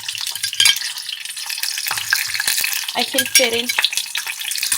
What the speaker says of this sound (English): Be careful that when the oil is hot, it can splatter.